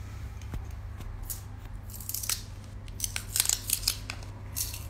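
Scissors snipping a small piece of adhesive tape during a craft workshop, a quick burst of close crisp cuts over a steady low hum, without talking.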